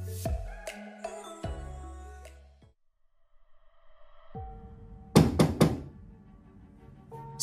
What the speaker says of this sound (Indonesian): Sebuah ketukan di pintu membuyarkan lamunan Leonard.